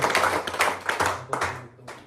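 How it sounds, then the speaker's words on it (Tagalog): Church congregation clapping hands during an evening worship service, a burst of loud, close, uneven claps in quick succession that thins out and stops after about two seconds. "palakpak muli sa ating Diyos"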